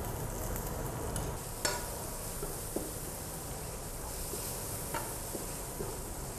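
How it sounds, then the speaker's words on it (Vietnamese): Garlic, lemongrass and chili sizzle and fry in a pot of oil for a shrimp hotpot base, a steady crackling hiss with occasional sharper pops and stirring, no speech. "Sau khi tỏi xả đã thơm thì mình cho ớt vào để có tăng mùi vị cay và"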